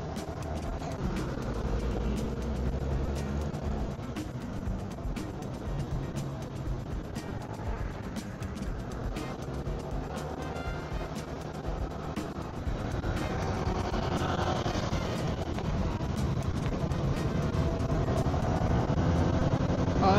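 A new Honda Giorno scooter riding out from the dealership on its first trip, its engine hum steady and close throughout, with road and wind noise rising toward the end.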